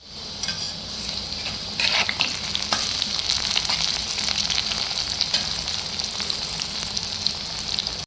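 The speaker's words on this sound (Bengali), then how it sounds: "এই তেলে ভেজে আমি পকোড়া তৈরি করে নেবো" Steady, loud sizzling of pakoras frying in hot oil, with crackling bursts and occasional stirring, continuous throughout with no talking.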